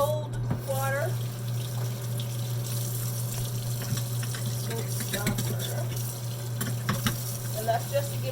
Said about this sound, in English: So let's fill up our sink with some cold water.